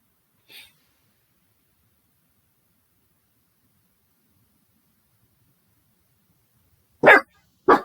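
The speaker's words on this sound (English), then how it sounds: "the dog barking." A dog barks twice in quick succession, loud and close, at the end of a mostly silent stretch in a room where a Star Wars card game match is being played, with a faint short noise earlier.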